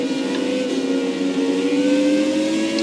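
A McLaren Honda Formula 1 car races in F1 2017, its engine giving a steady, loud, high-pitched drone that holds a sustained whine throughout with no talking.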